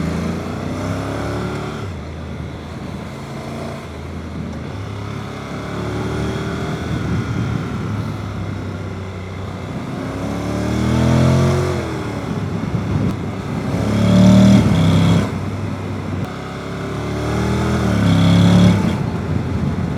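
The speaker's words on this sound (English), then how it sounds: "when you rev it out, it just sounds dull and a bit anemic" A Honda NC750X DCT motorcycle engine is revved repeatedly, its dull, somewhat anemic drone rising and falling in several swells, steady and moderately loud with no voices.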